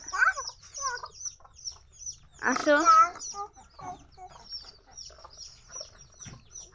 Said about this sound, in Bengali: এই তো মুরগি চলে এসছে